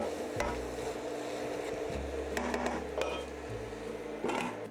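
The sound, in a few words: stirring curry powder in a pot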